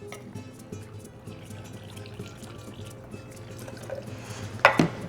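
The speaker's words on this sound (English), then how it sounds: "We're adding a ½ ounce of fresh lime juice." Fresh lime juice is poured into a cocktail tin while making a Paloma, a soft brief trickle and splash near the end over a quiet room background.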